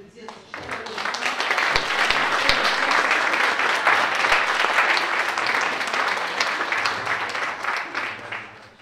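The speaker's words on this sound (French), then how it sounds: "je vais quand même vous demander d'applaudir" Sustained applause from a conference audience, steady and full for several seconds before tapering off slightly at the end.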